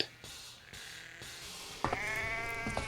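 Sheep in a pen bleat in a loud, wavering chorus that starts partway through, over a low rumbling background of a farm scene by a railway.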